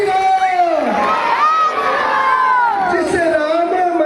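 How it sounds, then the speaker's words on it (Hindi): Crowd at a Ramleela stage performance cheering and shouting Jai Shri Ram together, a loud sustained chorus of voices with whoops and children's shouts and little distinct clapping. "एक बार सब जोर से तालियां बजाकर जय श्री राम"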